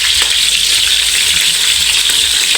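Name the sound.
sautéing tomatoes in hot cooking oil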